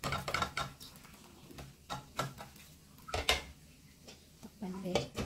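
A pan lid clinks back down over a pancake cooking on the stove, with several sharp metallic knocks and clatters spaced between quiet stretches of kitchen background.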